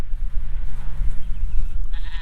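Goats bleat close by on a homestead in a short, steady burst of noisy, wavering calls, with no talking.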